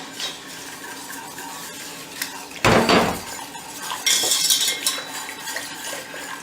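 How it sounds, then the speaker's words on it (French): Sugar goes into a pot of boiling water with lemon juice, producing a sudden close rustle and pour mid-way, then scraping and clinking of a utensil against the metal pot, set against a faint bubbling background. "Alors, je rajoute mon sucre."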